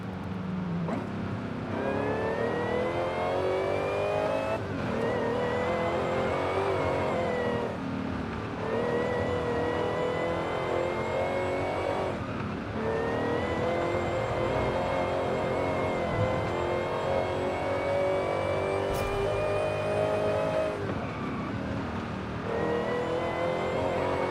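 A Dodge Hellcat's supercharged engine in the racing game Forza Horizon 5 roars loudly and continuously, its pitch climbing through gears and dipping at each shift, with brief lulls between pulls and no speech.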